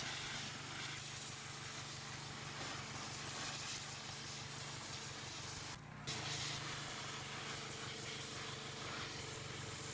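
A pressure washer with a red 0-degree tip blasts grease and dirt grime off a 1980 Toyota pickup, a loud continuous hissing spray over an engine drone, cutting out briefly once before resuming.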